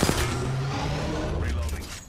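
Rapid gunfire from enemy players in the battle royale shooter Apex Legends, a dense continuous burst of shots and booms filling the whole moment, fairly loud and steady.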